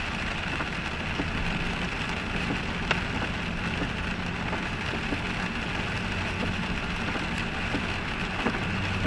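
Rain falls steadily on a car being driven on a wet Sunday afternoon, a constant broadband patter and hiss with a low engine hum beneath and occasional sharper drop ticks, no talking.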